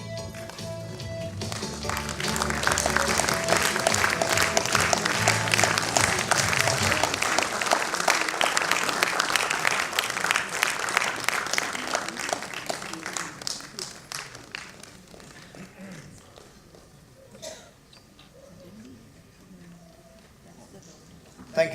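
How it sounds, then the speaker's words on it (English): An audience at an anniversary celebration breaks into sustained applause, loud and dense for about twelve seconds before thinning into scattered claps and fading to quiet. "a big round of applause"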